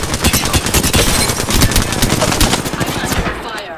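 Rapid machine-gun fire rattles continuously in a battle royale video game, loud and close, with sustained bursts that fade slightly at the end.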